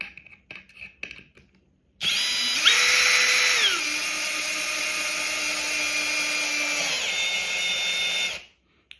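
A power drill whines at high speed for several seconds while driving screws into a project build, its pitch dropping as it loads up, then holding steady before cutting off; faint handling clicks come before it.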